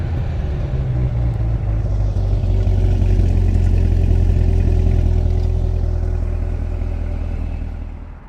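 Mid-engine C8 Corvette Stingray with the performance exhaust holds a loud, steady deep idle rumble for about eight seconds, close by, with a slight rise in the middle before easing off at the end.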